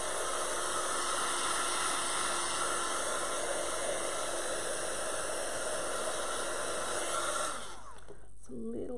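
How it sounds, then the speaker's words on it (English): A heat gun blows a loud, steady rushing hiss across a journal page for about seven and a half seconds, then cuts off abruptly, leaving fainter noise behind. "I'm going to use my heat gun to dry off this page"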